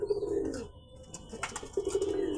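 Domestic pigeons, a hen and a cock in a home coop, give low, throaty coos in two drawn-out phrases separated by a brief pause, close and clear with soft chirps above.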